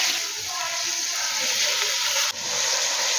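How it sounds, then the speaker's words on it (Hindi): Small pieces of chicken fry in a pan over a medium-high flame, a close, steady, hissing sizzle that carries through with hardly any change and one brief dip near the end. "मीडियम टू हाई फ्लेम पे 3 से 4 मिनट तक चिकन को फ्राई करेंगे।"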